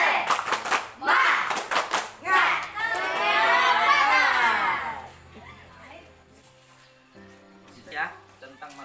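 Schoolchildren at a leadership training session perform a rhythmic spirit clap in unison, quick patterned hand claps with chanted shouts, loud and close, followed by quieter chatter and an adult talking.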